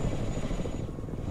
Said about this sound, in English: It's nice to bring these marine raiders in with the helicopter